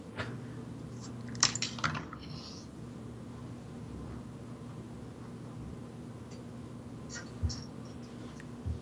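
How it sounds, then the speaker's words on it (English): Soft typing on a computer keyboard, with a few mouse clicks, comes in scattered bursts. The clicks are clustered near the start and again toward the end over a low background hum, and there is no talk. "keyboard and mouse."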